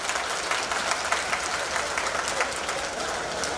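Crowd of spectators clapping at the Diwali Mela in Lucknow, a dense continuous patter of many hands, fairly distant and steady throughout.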